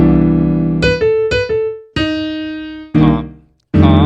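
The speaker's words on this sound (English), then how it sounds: "What I'm going to do is take my right hand and jump down and comp for myself." Jazz piano comping chords under its own melody, a few struck chords and single notes ringing and decaying, with short stabbed chords near the end, close and solo.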